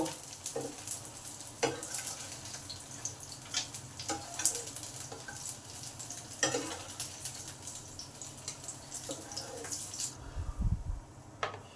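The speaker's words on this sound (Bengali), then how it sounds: "এবার আলুগুলোকে ভালো করে লাল লাল করে ভেজে নেব।" Potatoes fry in a pan after fish, giving a soft, steady sizzle broken by occasional stirring clatters and a brief low thump near the end.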